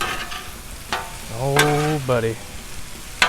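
Cajun shrimp and smoked sausage stirred on a Blackstone griddle, a steady sizzle with scraping under a short spoken exclamation and a few tonal vocal sounds.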